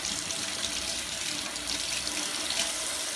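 Warm tap water pours steadily over a bar of soap wrapped in wool for felting, a continuous close splashing stream with no break and no voices.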